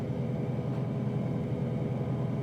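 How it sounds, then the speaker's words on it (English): Train engine rolling forward through a switch in Trainz 12, a steady low rumble and drone throughout, even and unbroken, with no talking. "now we're going to pull our engine forward through the switch here"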